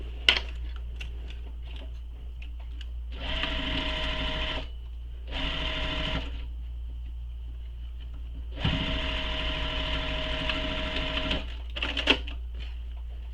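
A sewing machine stitches a shoulder bag seam in three bursts of steady motor whir, separated by short pauses, close and fairly loud over a low hum.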